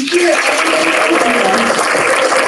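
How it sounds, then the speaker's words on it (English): A crowd applauds at a staff awards gathering, a continuous even wash of clapping at steady loudness throughout. "So big round of applause so they can hear"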